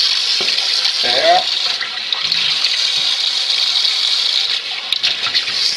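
Water runs steadily from a tap into a sink in a dental workspace, a loud, continuous splashing rush lasting throughout, with a brief voice near the start.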